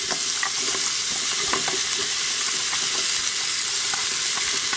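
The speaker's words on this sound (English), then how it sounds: "first thing we're going to do is add our onions in" Onions go into a hot pressure cooker pot and are stirred around, with a loud, steady sizzle and frequent clicks and scrapes of the utensil close by.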